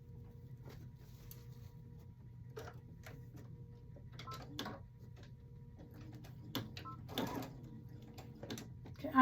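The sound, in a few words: sewing machine stitching a placemat seam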